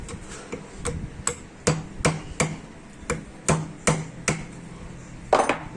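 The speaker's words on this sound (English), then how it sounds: "Same thing. Hammer this." Sharp metal hammer blows on a power steering rack and pinion part during home disassembly, about a dozen close, loud strikes in an uneven rhythm with no talking.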